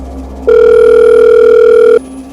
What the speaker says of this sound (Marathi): तेवढ्यात अक्षराचा, तिच्या बहिणीचा फोन आला.